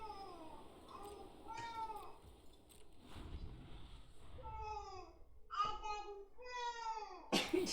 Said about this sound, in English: Chatty cat, yeah.